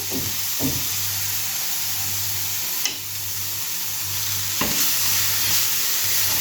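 Finely chopped onions sizzle steadily in hot oil, a constant bright hiss broken by a few sharp clanks of a spoon stirring the pan.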